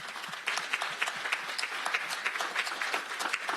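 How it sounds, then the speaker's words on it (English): A round of applause rises at a county supervisors meeting, many hands clapping at moderate loudness in a steady, sustained patter. "Please give me a round of applause."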